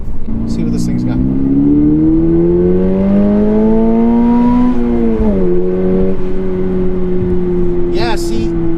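A Subaru BRZ engine pulls hard under acceleration, its tone climbing steadily, dipping at a gear change and then holding a steady drone, loud and close from inside the car, with brief faint clicks near the start and end.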